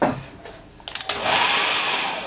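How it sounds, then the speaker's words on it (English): A Dyson hairdryer switches on with a few clicks and settles into a steady, fairly loud airy whoosh with a high whine, close by and with no talking. "That's what the Dyson sounds like."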